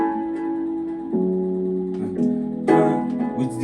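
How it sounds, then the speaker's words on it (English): A guitar-like synth chord progression with delay in a dance beat, sustained harmonic chords shifting every second or so, trailing echoes and rising brightness toward the end, steady and moderately loud with no speech. "I added something like a guitar to the chord with delay"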